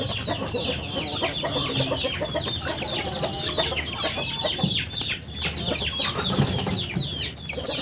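Forty-day-old free-range chickens cluck and chirp in a pen, many overlapping calls close by with occasional wing flaps, steady and busy throughout.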